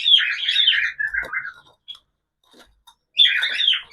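Pet birds chirping and tweeting close by while being fed rice mixed with honey, a busy burst of calls, a pause with faint rustles, then another burst of chirps.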